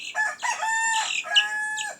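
A rooster crows loudly and close by, a long drawn-out call with a second crow following, no talking.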